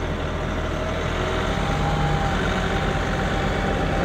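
A Kioti loader tractor's engine runs steadily at close range while dumping rocks for fish cover, a loud constant rumble with no break and no talking.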